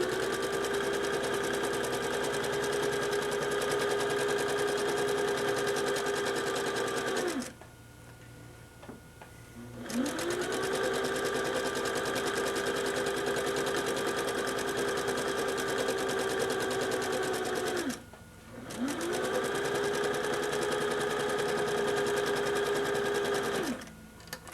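A sewing machine stitches seams on a circus tent in long steady runs, pausing twice briefly before starting up again, with no talking.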